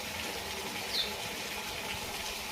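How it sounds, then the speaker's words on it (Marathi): Water running steadily from a pipe onto plants, a continuous even rushing hiss at moderate loudness with no breaks, and no voices. "झाडांना पाणी देत आहे तुमचं दाजी"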